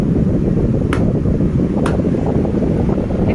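An oscillating electric fan blowing air, a soft steady whooshing hum with two brief clicks as it turns, no talking.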